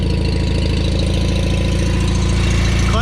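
A John Deere 318 lawn tractor engine idling steadily, a loud, even, rhythmic mechanical chug close by, with no talk.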